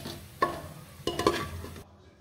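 Onions frying in a pan for egg biryani, with a couple of quick stirring scrapes over a soft sizzle before the sound cuts off abruptly.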